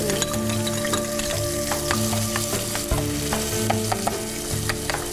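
Finely chopped onion fries in a couple of spoonfuls of ghee for bulgur mujaddara, a loud, steady close sizzle with stirring scrapes throughout.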